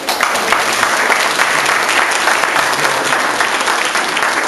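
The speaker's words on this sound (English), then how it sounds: "please welcome him with a big round of applause" Audience at a political party governor's debate forum applauds steadily and loudly to welcome the MC, a dense continuous clapping throughout with no speech.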